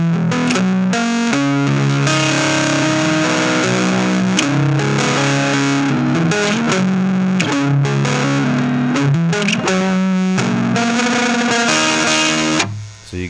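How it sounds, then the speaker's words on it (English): Fuzz guitar tone from a Validity Sensor Reloaded reverb and fuzz pedal, with the reverb mix turned down: a loud, continuous distorted riff of sustained chords and notes that runs throughout before cutting off abruptly near the end, with no voices. "So you get just the fuzz if you want."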